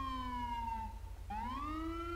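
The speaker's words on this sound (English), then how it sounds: "Can you still hear me over the siren?" A video game police siren wails nearby, sliding down in pitch then rising again over a low engine hum, loud and steady.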